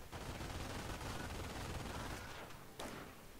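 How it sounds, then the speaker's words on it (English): Machine gun fire from the video game Company of Heroes rattles in a dense, continuous burst of rapid shots with a sharper crack near the end, loud and alone without talk. "They're bringing the machine gunners."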